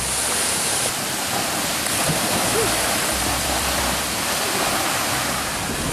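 A waterfall, Air Terjun Nara in East Sumba, roars with a constant, close rush of water that stays even from start to finish.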